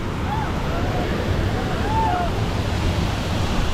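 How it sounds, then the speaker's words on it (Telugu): Waterfall in Wayanad, Kerala, a steady broad rush of falling water mixed with wind noise, with faint voices and bird calls in the background. "వాటర్ ఫాల్ పడుతున్నది"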